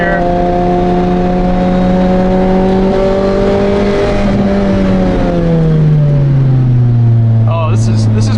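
A 2007 Lotus Exige S 220 engine climbs in pitch as it accelerates hard, then the revs drop and slide lower, loud and close throughout.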